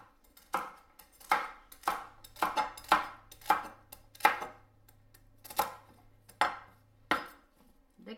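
A knife chopping food into small pieces on a board, about a dozen crisp separate cuts in an uneven rhythm, close and fairly clear with no talk.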